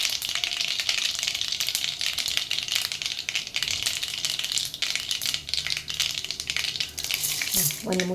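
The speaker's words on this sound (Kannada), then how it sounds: "ನೋಡಿ, ಸಾಸಿವೆ ಪಟ ಅಂತಿದೆ." Mustard seeds splutter and pop in hot oil in a pan for mango chitranna, a dense, continuous crackling sizzle with rapid irregular pops, close and fairly loud throughout.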